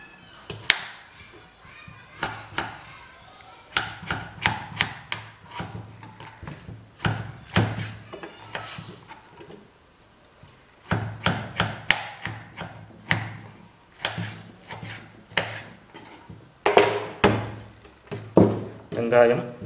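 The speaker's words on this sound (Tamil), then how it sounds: "அடுத்தது தக்காளி, ஒரு தக்காளி நறுக்கலாம்." A knife chopping a tomato on a cutting board in quick bursts of sharp, close taps, with brief pauses between runs.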